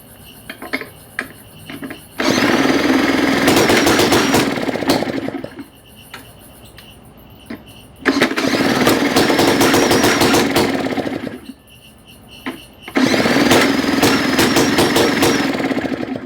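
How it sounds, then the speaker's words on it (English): Craftsman Japanese-made backpack blower with a valve fault, its small two-stroke engine roaring close and loud in three long bursts, each broken by choppy, sputtering backfire gaps before revving again. "you see it's backfiring? That's a valve issue."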